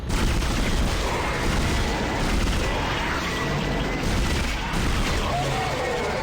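Sustained rapid gunfire and explosive booms from the pulse rifle in the video game Dead Space, a dense continuous barrage of shots with blasts mixed in, loud throughout with the player's voice talking over it.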